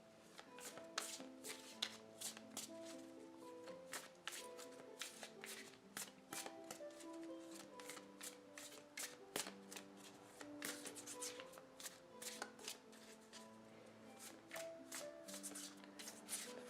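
Tarot cards are shuffled and drawn from a deck at close range, a quiet, continuous stream of crisp riffling snaps and soft slides with no voices.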